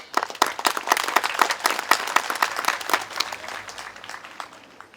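Warm applause from a graduation ceremony audience for a Moreno Valley school board member, a dense, steady patter of many hands clapping close by for about four seconds before tapering off.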